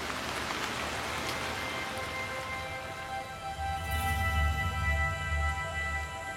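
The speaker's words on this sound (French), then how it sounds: "avec l'intensification des pluies diluviennes qui accompagnent la mousson, la situation s'aggrave" Heavy monsoon downpour drenching the flooded plain of Kaziranga, a dense steady roar of rain hitting surfaces with no pauses, close and constant throughout, heavier low rumble building toward the end.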